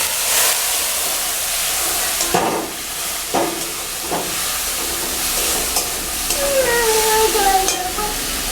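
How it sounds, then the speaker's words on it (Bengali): Spices sizzle in a pan with Kashmiri chilli powder as a little water is poured in, a steady loud hiss with a few sharp stirring scrapes partway through, then bubbling and squeaky steam notes near the end. "এবার সামান্য জল দিয়ে দিচ্ছি"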